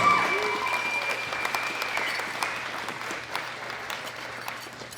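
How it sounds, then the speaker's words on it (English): An audience at a world classic powerlifting championship applauds the 93 kg open men's lifters, with steady dense clapping that starts strong and slowly tapers over several seconds. "Give them all a big round of applause."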